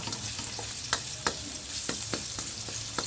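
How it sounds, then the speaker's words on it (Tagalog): Ginger sautéing in a pan, a steady low sizzle punctuated by a few scraping stir strokes, close and alone without talking. "Isunod na natin ang luya."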